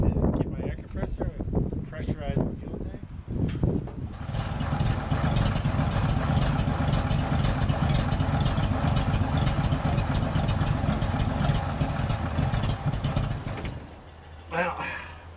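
A 1962 Ford F-350 farm truck engine idles steadily and loud for about ten seconds after speech and clatter in the opening seconds, then cuts to a lower hum near the end.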